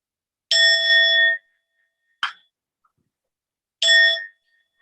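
A meditation bell rings twice with clear, sustained metallic tones about three seconds apart, a brief softer strike between them, in an otherwise silent room.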